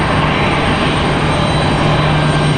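A jet airliner turns at Raleigh Durham airport, its engines a loud, steady, broadband roar with a constant low hum, unbroken throughout.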